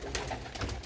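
Pigeons shut inside a coop coo softly in low, repeated throaty calls, faint and close, with no one talking.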